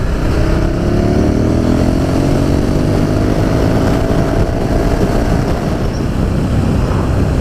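A 2017 KTM 1290 Super Duke R motorcycle accelerates hard on an open road, its engine note rising steadily under heavy, constant wind rush, loud and recorded from the rider's position.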